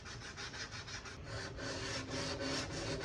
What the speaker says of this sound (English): I used this sanding block to help me here and make sure that the rest of the edge was all scuffed up.